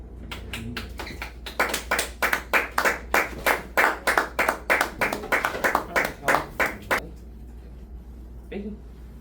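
A class of students claps for a classmate named Kelly, a fast run of about twenty crisp, evenly spaced claps that stops abruptly, followed by a brief voice.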